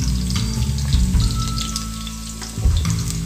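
Onions frying in a pan for a spicy Goan chicken cafreal, sizzling and crackling close up with a steady hiss, light clinks and stirring bumps, with no talking.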